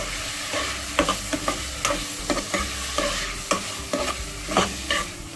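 Ackee pizza topping is sautéed in a pan, with a spoon stirring and tapping in repeated short knocks over a steady, moderate sizzle at close range; no one talks.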